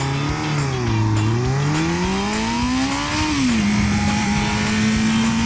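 A motorcycle engine at a motorcycle breakfast meetup in Australia, revving loudly and close by with a continuous throaty drone that rises, dips and climbs again in pitch before holding steady, with no talking.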